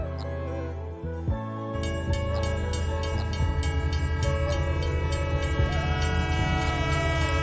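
A train sound effect for a Delhi-to-Lucknow journey, a train running about five or six hours late in fog: a steady rolling rumble with layered horn-like tones, continuous and fairly loud throughout, no talking.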